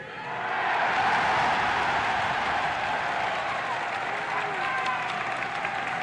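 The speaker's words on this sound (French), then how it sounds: "La foule déborde d'enthousiasme" A large crowd in Montreal in 1967 cheers and applauds Charles de Gaulle's speech, a loud sustained roar of clapping and shouting that swells quickly and holds steady.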